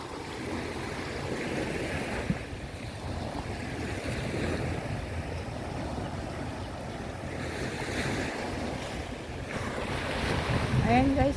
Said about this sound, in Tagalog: At yan po ang dagat.